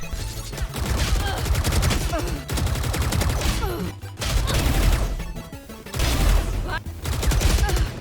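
Automatic rifle sprays in the video game Valorant, long rapid bursts of gunfire fired in several sequences with short pauses between them, loud and close.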